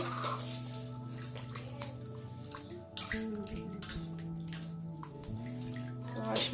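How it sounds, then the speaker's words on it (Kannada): Raw chicken washed in water, splashing and sloshing in a container with a sharp knock midway, close and moderate, accompanied by low household sounds and a few soft vocal noises. "ಚಿಕನ್ ಕೂಡ ಒಂದು ಎರಡು ಸಲ ಅಷ್ಟು ವಾಶ್ ಮಾಡ್ಬೇಕ್ರಿ ಇದು"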